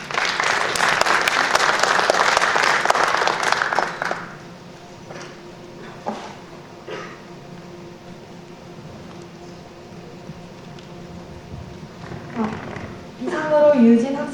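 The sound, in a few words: audience applause after a research presentation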